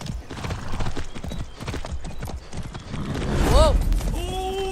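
Rhythmic horse hooves clip-clop at a steady trot in the video game Far Cry 6, close and loud, then a horse whinnies sharply near the end.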